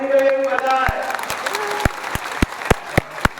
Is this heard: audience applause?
yes